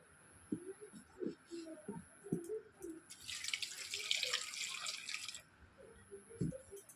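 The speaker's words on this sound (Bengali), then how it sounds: "এবার আমি এতে জল দিয়ে দেবো।" Water is poured into a cooker pot holding cut potatoes and eggs, a bright splashing stream rising in the middle of the clip, with someone talking softly before and after.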